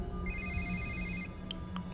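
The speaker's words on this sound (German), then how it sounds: "Telefon." A telephone rings in the video game Homefront: The Revolution, a repeating electronic trill heard faintly over a low ambient game backdrop, with no talk.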